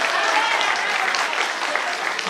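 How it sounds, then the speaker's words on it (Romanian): A crowd claps steadily at a folklore and folk traditions festival in Sarata, a dense wash of applause that holds at an even, fairly loud level throughout without breaks. "Aplauze."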